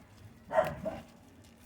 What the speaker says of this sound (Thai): น้องโลมันเห่านะคะ